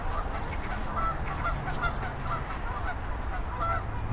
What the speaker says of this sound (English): You can hear the geese are honking like crazy over there.